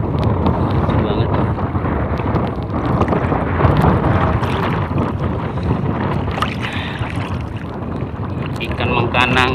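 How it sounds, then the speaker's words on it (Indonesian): Strong wind roars and buffets the microphone at sea during fish netting, a loud, continuous rushing noise with gusty swells over the whole stretch. "Suara anginnya kencang banget."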